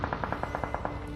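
Video game gunfire: a quick burst of about ten evenly spaced shots from an automatic weapon, moderately loud and sharp, with no talking.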